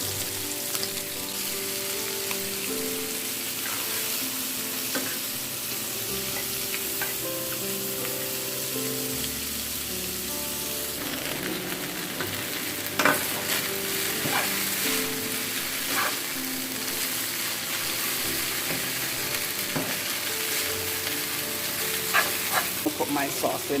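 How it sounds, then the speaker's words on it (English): Shrimp stir-fry in a pan for Singapore noodles with chicken, making a loud, continuous crackling sizzle with irregular scrapes and clatters of stirring throughout. "we don't want to cook our shrimp for too long now because you know shrimp don't need a long time to cook"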